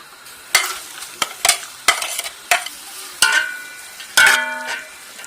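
Onions sizzle in a cup of oil over a high flame for chicken pulao, with about seven sharp, separate spatula strokes scraping through the pan at close range and no voices.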